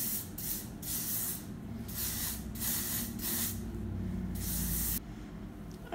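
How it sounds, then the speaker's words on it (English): Light-hold hairspray misted onto hair in several short, close hissing bursts with brief pauses between them, ending in one longer spray. "It's like a light hold hairspray pretty much, but it's going to help your hair kind of stay in place."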